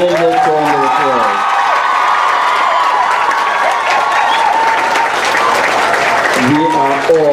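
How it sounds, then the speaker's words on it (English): A convocation crowd at the University of Guyana Berbice campus gives the 2019 graduating class loud, continuous applause with cheers and whoops, while a voice speaks briefly at the start and end. "please give them a tremendous round of applause."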